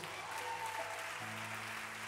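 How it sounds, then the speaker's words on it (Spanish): A church congregation applauds during a Spanish-language sermon, steady moderate clapping heard at a distance over a sustained organ or keyboard chord that shifts partway through. "Una vez más, denle un aplauso a Dios."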